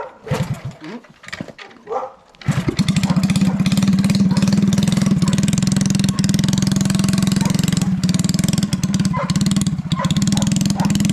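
A mini chopper motorcycle engine fires up after a few seconds of rustling and short sputters, then runs at a loud, steady, rapid chugging idle close by, with a voice talking briefly before it starts.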